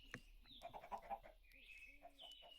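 Clucking chickens in a farming video game, several short clucks and squawks scattered over a steady game background with chimes, at moderate level and without voices.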